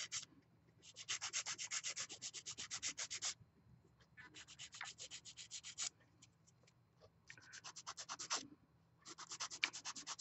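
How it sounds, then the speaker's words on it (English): Rapid, rhythmic scraping of a nail file along the sides of a fingernail, in close bursts of quick strokes separated by short pauses, very near and quiet, with no talking. "And I'm just filing up the sides."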